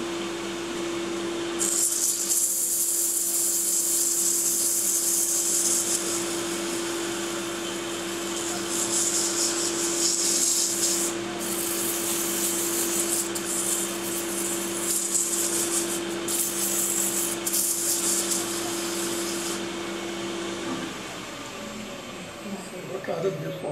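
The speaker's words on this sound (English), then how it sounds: "We'll do a little bit of sanding." Sanding a wooden awl on a lathe: a steady motor drone runs throughout while abrasive hissing rubs against the spinning wood come in several long bursts and pauses.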